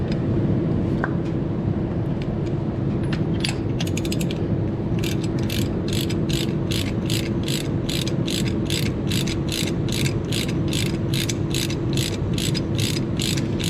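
A ratchet wrench clicks in a fast, steady run of ratcheting strokes while spark plugs are changed on an IH 1026 tractor, close and clear over a constant low hum.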